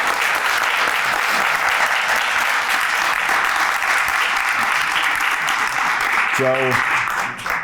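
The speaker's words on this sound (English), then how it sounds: "let's give them a round of applause if we can" Audience applause fills a City Hall sister-cities signing ceremony, a steady, dense clapping from a large crowd that runs unbroken and loud throughout, with a brief voice rising near the end.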